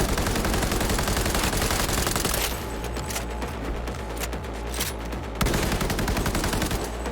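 Submachine gun fire in Cyberpunk 2077, rapid close bursts rattling continuously, briefly thinning mid-clip before the full automatic stream resumes loud and steady.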